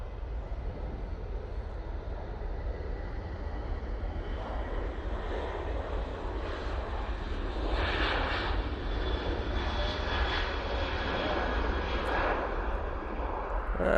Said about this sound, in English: Caroline, I think the white TUI was off to Corfu